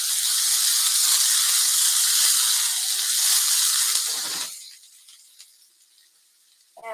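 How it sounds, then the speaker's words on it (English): Chicken sizzles in a pan on a low burner, a steady loud hiss for about four seconds that then fades away to near quiet. "And we're going to let that sizzle for a while."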